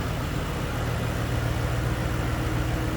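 A 2008 Ford Mustang Bullitt Edition with a 4.6-liter single overhead cam V8 idles close by, a steady, even low rumble with no changes in revs and no voices.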